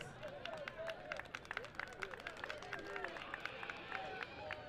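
Crowd at a high school football game between Palmetto and Southeast claps in scattered, overlapping bursts, faint and distant beneath a murmur of voices and nearby talk.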